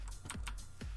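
Quick clicks on a computer keyboard during a Minecraft hide-and-seek game: four or five soft, close keystrokes in about a second, with no voices.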